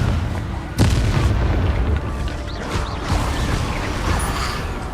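A Confringo spell explosion in the video game Hogwarts Legacy: a sudden loud boom followed by rumbling, with further muffled impacts and crackles during the rest of the fight.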